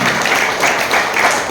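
Audience applause at a Don Bosco youth inauguration event in Semmiamangalam: a steady, dense wash of clapping from a crowd, loud and continuous throughout with no pauses.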